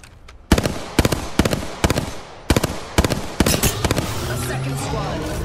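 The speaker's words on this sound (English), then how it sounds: "Oh, why are you guys shooting me?" Bursts of gunfire from other players in Apex Legends, loud sharp shots in quick clusters roughly every half second, followed by a denser rattle of fire and game noise.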